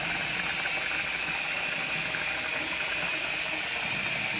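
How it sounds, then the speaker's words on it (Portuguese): Vegetables steaming in a covered pot on a home stove give off a loud, steady broadband hiss with faint rattling, continuous and unbroken throughout, with no voices. "Verdurinha cozinhando no vapor"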